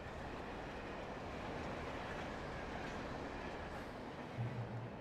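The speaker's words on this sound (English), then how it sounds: "Train." Train rolling past in the video game Alan Wake, a steady, dense rumble of rail noise that fills the whole stretch, with a slight low surge near the end.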